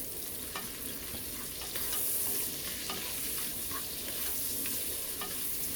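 Tomatoes are stirred in a hot frying pan for ampalaya con carne, a steady close sizzle with repeated scraping of the spoon against the pan, no talking.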